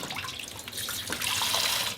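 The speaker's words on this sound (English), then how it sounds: "Cupping some water from the tap, she washes her face with her hands." Water from a sink tap splashes steadily as someone washes their face with cupped hands, the hiss and spatter growing louder and fuller toward the end, with no voices.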